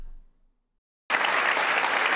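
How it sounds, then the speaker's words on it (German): After about a second of silence, an audience at a live stage discussion bursts into dense, sustained applause that holds steady and loud to the end. "Was gibt es da zu klatschen?"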